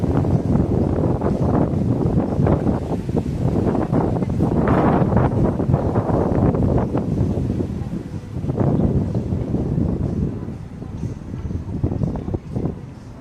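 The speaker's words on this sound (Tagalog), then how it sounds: "Mahangin po dito, guys, humid, no?" Humid wind blowing outdoors in Macau, gusting and buffeting loudly against the microphone in rising and falling surges, with no clear talk over it.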